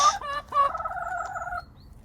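Backyard hens in a coop let out two short, close, loud calls that sound more like gobbling than clucking, with a harmonic, warbling tone over a low background rumble.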